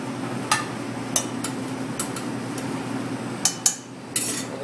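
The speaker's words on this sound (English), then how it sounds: "I'm going to grab a saute pan, and I'm just going to add a little bit of the mushroom ragu that we made earlier" A sauté pan is handled on a stove while mushroom ragu goes in: a handful of sharp metallic clinks and knocks, irregularly spaced, over a steady low kitchen hum.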